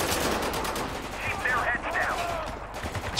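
Gunfire from a shotgun in GTA Online, dense continuous shooting and battle noise filling the scene, loud and close throughout with a voice briefly audible underneath.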